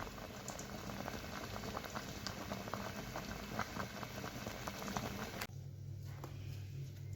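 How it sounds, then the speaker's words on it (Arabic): A jujube drink boiling in a pot on a gas stove, a dense continuous bubbling and popping, close and steady, then cutting abruptly to a quieter low hum near the end. "هنسيبه يغلي كويس جدا مع بعض على البوتاجاز"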